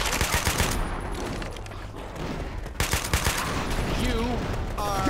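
Dense, rapid gunfire fills a Left 4 Dead 2 firefight, with continuous overlapping bursts of shots close by and steady throughout, and voices call out briefly near the end.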